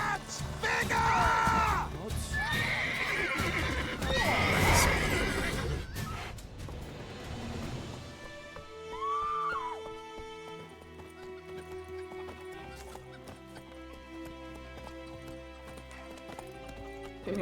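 Roach, the horse in The Witcher 3, whinnies loudly several times while hooves clip-clop at a gallop, the sounds mixed with game music and scuffling voices, before fading into quieter music.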